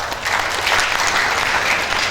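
A crowd at a college graduation ceremony in Martapura, Indonesia, applauds steadily, a dense patter of many hands clapping together throughout.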